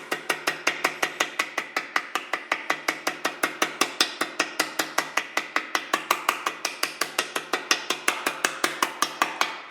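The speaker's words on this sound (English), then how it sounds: "Now, I'm going to cut the other one. Same thing, just tap." A hammer tapping out gasket material for a 1967 John Deere 710 tractor, a fast, even run of several dozen sharp light taps at close range with no talking.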